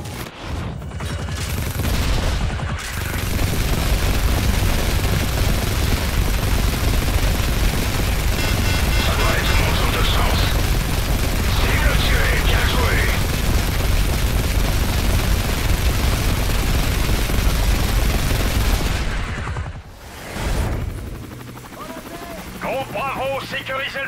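Sustained machine gun and automatic gunfire from a Modern Warfare 3 campaign mission, loud and dense with explosive booms and aircraft rumble for about twenty seconds, then a brief lull before more shooting; game voices talk over it.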